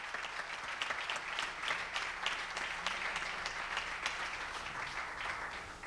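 A church congregation applauds during a sermon, a sustained, even patter of many hands clapping from a moderate distance, fairly quiet overall.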